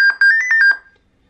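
A Dell computer's diagnostic test sounds an electronic alarm for a missing battery: a quick series of seven high beeps in a fast, even rhythm, loud and close, then it stops into silence.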